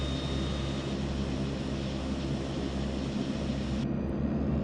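Right engine of a DHC-6-300 Twin Otter twin-turboprop in the FSX flight simulator running steadily, a loud continuous engine drone with a constant high whine that cuts out near the end.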